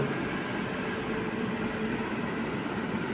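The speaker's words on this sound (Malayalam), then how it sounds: "ഇന്ത്യൻ റെയിൽവേസ് പതുക്കെ മൂവ് ആവുകയാണെന്ന് തോന്നുന്നു" Low, steady rumble of an Indian Railways train beginning to roll, a continuous broadband drone with faint rhythmic thumps underneath, no voices.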